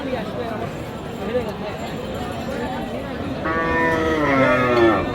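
Cattle mooing amid a busy outdoor crowd at Raniganj cattle market in Dinajpur, with a loud, drawn-out low moo rising near the end over steady background chatter.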